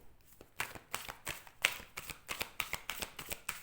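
Oracle cards are shuffled and drawn during a cosmic-oracle love reading, producing a quick run of crisp, close riffling flicks and slaps in an irregular rhythm, with no voices.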